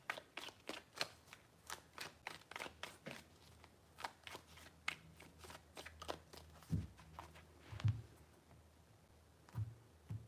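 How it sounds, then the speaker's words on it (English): Tarot cards are shuffled in a string of quick crisp riffles and taps, close and fairly quiet, with a few heavier thumps near the end as the deck is squared. "3 shuffles."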